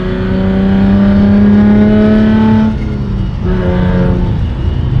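A stock Honda Civic and a modified Hyundai Genesis Coupe 3.8 R-Spec race, with a loud, close engine drone rising steadily in pitch, a brief dip at a gear change, then climbing again.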